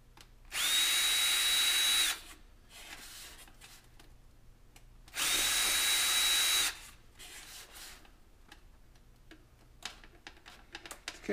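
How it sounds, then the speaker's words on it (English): A power drill runs at high speed re-drilling small vent holes in a model rocket airframe, two loud sustained bursts of about one and a half seconds each, separated by quiet handling noise. "Re-drill them at high speed."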